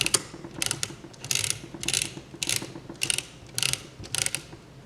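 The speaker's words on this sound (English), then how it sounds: "the ratchet clicks over and begins ratcheting from that side" A two-way ratchet in a video-game motor mechanism clicks in rapid bursts, with a steady rhythm of sharp mechanical ticks and grinding gear noise throughout, close and clear with no voices.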